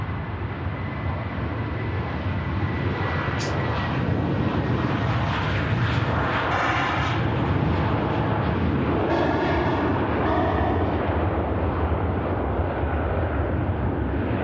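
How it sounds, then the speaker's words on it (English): A Lufthansa Airbus A321 in classic livery roars at Manchester Airport with a broad, sustained jet-engine rumble that stays loud and steady throughout. "Lufthansa Airbus A321 in the classic scheme."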